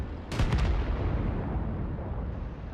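A tank cannon firing in World of Tanks, one sudden heavy boom followed by a long rumbling decay that fades over a couple of seconds, with no voices.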